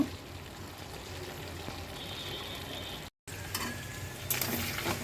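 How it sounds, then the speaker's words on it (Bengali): Tripe frying in oil in a pan: a quiet, continuous sizzle and hiss with occasional stirring scrapes, broken by a very short dropout before the sizzle returns a little louder toward the end, with no talking. "এখানে বটটা আমি ভালো করে তেলের মধ্যে ভেজে নিচ্ছি"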